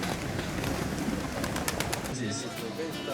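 Pigeons coo softly amid a busy outdoor wash of background noise and distant chatter in Marsaxlokk, Malta, with a few higher chirps near the end.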